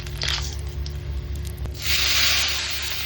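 Whole cinnamon sticks, bay leaves, dried red chillies and a pinch of cumin sizzle in hot oil for a tempering, a steady close hiss that swells louder partway through, with no talk.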